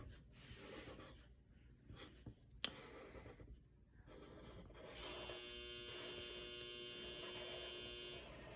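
A pencil scratches faintly around the edge of a paper tessellation cutout, soft intermittent strokes with short pauses, set against a constant low electrical hum.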